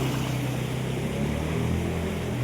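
Floodwater churning in waves across a flooded street in Bhawanigarh after rain as motorbikes and other vehicles push through, a steady low engine drone over a continuous watery wash, close and unbroken, with no talking.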